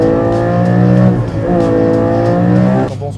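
A 2023 Porsche 718 Cayman GT4 RS accelerates hard from a standstill, its engine howling loud and close as it climbs through the revs, with brief dips at each gear change.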